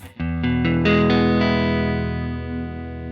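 Electric guitar chords strummed in quick succession, then left to ring out through an Xotic RC Booster pedal, carrying a mild crunchy distortion with a slightly processed, effected tone.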